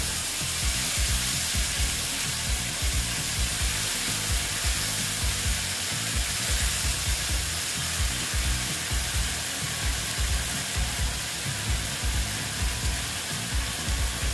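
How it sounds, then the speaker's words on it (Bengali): Grated tomato and ginger fry in a pan with a steady, close sizzle that runs unbroken throughout, with faint stirring pulses underneath. "দিয়ে আবার একটু টমেটোটা আর আদাটা একটু ভালো মতো ভেজে নেব"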